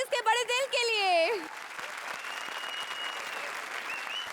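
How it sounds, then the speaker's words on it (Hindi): Studio audience applause at a Comedy Circus comedy show, a steady wash of clapping that follows a brief, lively voice at the start and carries on alone to the end. "आप लोग भी ताली बजा सकते हैं हमारे जजेस के बड़े दिल के लिए"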